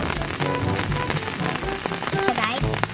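Heavy rain from Typhoon Ambo pours steadily onto surfaces, with dense close drops and patters throughout and no voices.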